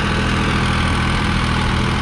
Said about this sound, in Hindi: 1800 RPM पर ट्रैक्टर चला रखा है भाई ये।